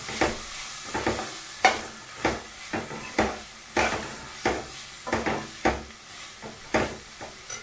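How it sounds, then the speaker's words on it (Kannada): Ground masala powder frying in a pan for Karnataka-style pulao, with a spoon scraping and stirring in steady rhythmic strokes, each pass a bright scrape over a soft sizzle, close and without talk. "ಇದನ್ನೆಲ್ಲ ಚೆನ್ನಾಗಿ ಈ ಥರ ಹುರಿದ್ಬಿಡ್ತೀನಿ ಈಗ"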